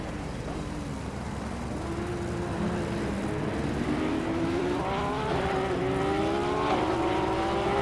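Porsche Sprint Cup race cars, including a bright yellow Porsche closely followed by a rival, roaring around the Spa circuit; loud, continuous engine drone with rising and shifting pitch as the cars pass, no talk.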